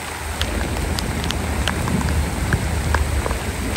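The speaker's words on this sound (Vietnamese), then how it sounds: "Trời mưa, hai bà cháu đi vô vườn hái rau muống." Rain falls steadily on a water spinach vegetable garden in the countryside near Hanoi, a dense, even hiss of drops with occasional sharper patters close by.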